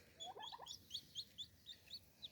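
Newly hatched chicks, still damp, peeping in a quick series of high, thin chirps, about eight distinct calls in a steady rhythm, fairly faint over a low background hum.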